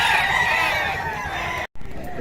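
Chickens and roosters at a busy outdoor market, crowing and clucking loudly and continuously, with crowd noise and voices underneath and a brief drop to silence near the end.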